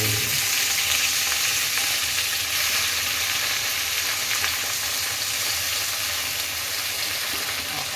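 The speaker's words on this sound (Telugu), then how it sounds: "ఇది గోంగూర గోంగూర నూనెలో ఫ్రై" Gongura leaves sizzle and crackle steadily in hot oil, a dense continuous frying hiss at close range with occasional stirring, no voices.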